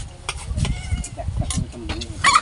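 Chickens cluck and chatter in short, irregular bursts close by, with rustling and low background noise throughout and a brighter squawk near the end.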